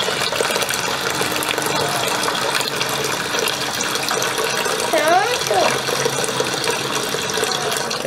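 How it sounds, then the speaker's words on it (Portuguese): Filtered water pours steadily into a home aquarium, a continuous close gushing stream with a person's voice briefly audible partway through. "Por que tá colocando água de bebê? Água filtrada, pra ser mais limpa"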